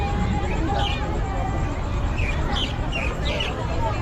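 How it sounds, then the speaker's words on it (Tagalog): Birds chirp and call intermittently in brief bright bursts at Burnham Park in Baguio City in the morning, partly masked by steady background crowd noise and ambient rumble. "Naririnig po natin yung mga huni ng ibon dito mga idol"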